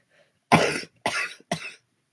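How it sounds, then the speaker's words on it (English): Three harsh coughs from one person, close and loud, spaced about half a second apart, with near silence around them. "serious coughing going on"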